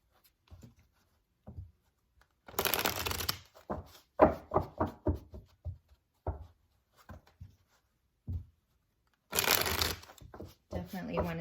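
Oracle cards being shuffled in two brisk bursts, close and crisp, with soft speech and handling sounds in between.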